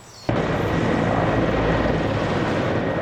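In a military video game, an MI-24 helicopter cuts in abruptly with a loud, sustained rotor and engine roar that holds steady and close, a dense rumbling drone with no voices.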